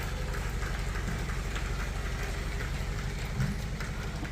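Steady rain falling during a night power cut, a continuous dense hiss with low rumbling that holds an even level throughout, no voices.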